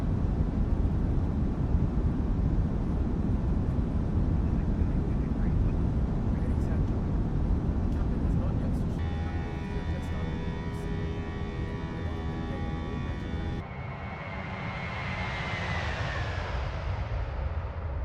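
An airliner climbs out of Sydney after departure in Microsoft Flight Simulator 2024, with a steady, loud broadband engine and wind roar that runs throughout, a tonal whine in the middle and a thinner hiss toward the end.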